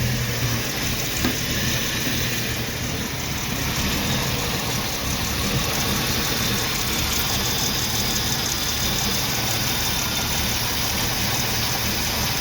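A 1990 Jeep Wrangler engine idles roughly, a continuous loud rumble with broad hiss that stays close and steady for about twelve seconds.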